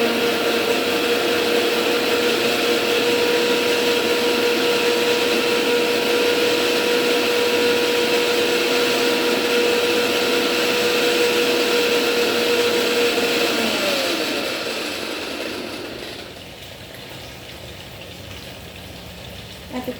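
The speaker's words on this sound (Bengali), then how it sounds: "এরকম আমি মিক্সিতে একদম সুন্দর করে বেটে নিয়েছি।" Electric mixer grinder whirring steadily as it grinds a mustard spice paste with added water, a loud continuous motor drone that winds down and stops near the end, leaving quieter room noise.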